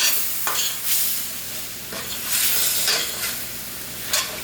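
Stewed liver with oyster sauce is stirred in a sizzling pan, with a series of scraping, swishing strokes over a steady frying hiss, close up and without talk.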